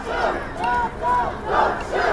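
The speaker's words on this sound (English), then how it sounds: "The crowds bring Broadway to a stop" A protest crowd marches through the streets of downtown Denver, bringing Broadway to a stop, with several loud rhythmic chants rising and falling in repeated bursts from many voices together.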